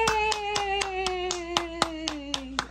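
A short burst of clapping, about ten sharp claps in a loose, steady rhythm, sounds over a sustained electronic tone that slowly glides downward, like a toy's jingle or cheer sound effect, close and fairly loud with no talking.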